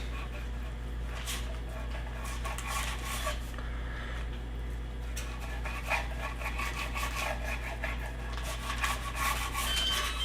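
A kitchen knife cutting through a salmon fillet, bursts of rasping, sawing strokes in several separate passes over a low steady hum, close and fairly quiet.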